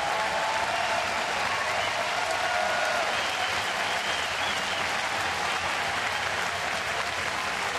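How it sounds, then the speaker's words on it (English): A stadium crowd at a Colorado at Toronto baseball game gives sustained applause as the pitcher leaves the game, a broad, even roar of clapping filling the whole stretch. "Pat on the back from the manager and a nice round of applause."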